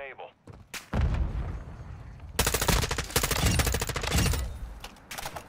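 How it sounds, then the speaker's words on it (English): Bots in the video game DMZ fire guns in dense, loud bursts of rapid automatic fire with scattered single shots, nearly continuous for several seconds. "The bot was shooting me instead of him."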